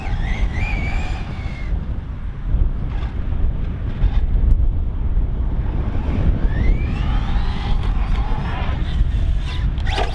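Outdoors beside a lake, strong wind buffets the microphone continuously, a loud rumbling roar that persists throughout with faint whining tones drifting in the background.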